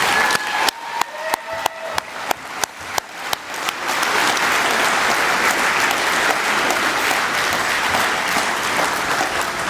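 Applause at a youth football banquet, starting with a few separate loud claps in a loose rhythm and then swelling into steady, dense clapping from the whole room.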